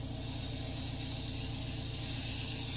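An airbrush loaded with thinned acrylic paint sprays in a steady, unbroken hiss of air, close and fairly loud, with no voices over it.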